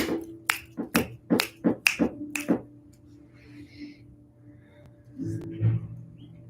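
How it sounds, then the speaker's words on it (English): Sharp hand claps come in a quick rhythmic series, about eight crisp strikes close by during a guided energy meditation, followed by quiet and a soft voice. "Yep, clapping."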